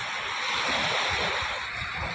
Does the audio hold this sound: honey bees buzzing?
no